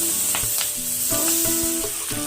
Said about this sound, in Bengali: এবার আমি এই কেটে রাখা পেঁয়াজ কলি আলু দিয়ে দেবো, ভেজে নেব ভালো করে।